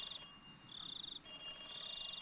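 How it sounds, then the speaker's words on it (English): In the Higurashi visual novel, a telephone rings with short electronic trilling bursts over quiet background music, faint and unaccompanied by talk. "Right then, the phone rang"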